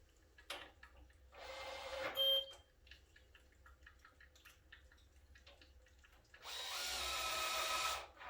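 A cordless drill in screw mode drives screws for a magnetic euro lock in two bursts: a short whirring run early, a later longer one, and faint clicks and handling noises between them.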